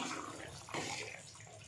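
Rice tipped into a pot of boiling water while cooking biryani, a brief watery splash and rush close by over a steady bubbling bed, with no voices.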